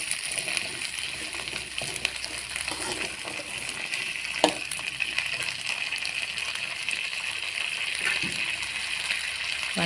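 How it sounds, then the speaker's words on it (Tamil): Onions fry in a pan for mutton curry, a steady bright sizzle with faint crackles and occasional soft stirring knocks, with no talk. "வெங்காயத்தை நல்லா வணங்க விட்டுருங்க."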